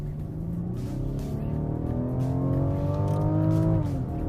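A Rolls-Royce Wraith with a 6.6-liter V12 accelerates hard, its smooth engine note climbing steadily in pitch for about four seconds before easing off near the end, heard from inside the car with no talking.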